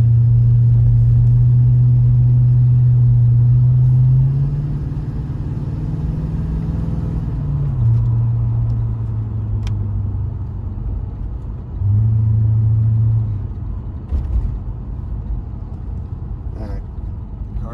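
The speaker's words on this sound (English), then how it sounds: "driving the 1986 Monte Carlo SS." A 1986 Chevrolet Monte Carlo SS engine hums steadily at low pitch, rising and settling as the car drives, with a brief surge of revving near the end.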